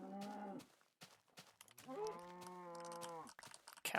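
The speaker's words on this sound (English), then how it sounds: "I need to go out and defeat a cow" A Minecraft cow lets out two synthetic moos, a short one and then a longer drawn-out one, each clear and close. Faint clicks from a computer keyboard sound quietly between them.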